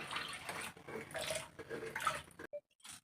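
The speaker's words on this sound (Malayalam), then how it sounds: "വെള്ളം തെളിഞ്ഞ് വരുവേ അരി കഴുകുമ്പോൾ" Running water splashes over rice as it is rinsed and swished by hand for biryani, close and fairly loud, stopping briefly near the end.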